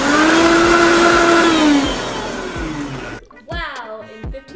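A blender runs on high speed whipping cream with powdered sugar, a loud motor whine that drops in pitch and fades, then gives way to a quieter stretch with clattering bumps and a short revving burst.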